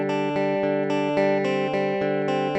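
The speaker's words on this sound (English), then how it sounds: "What you're hearing right now is just clean guitar." A clean electric guitar with no effects plays a steady string of plucked chords, dry and close, in a short passage with no talking.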